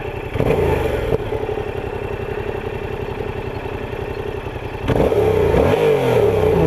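Standing right beside the exhaust of a 700cc motorcycle, the engine idles with a steady throb, then blips sharply twice, each rev rising and falling back to idle, loud and close.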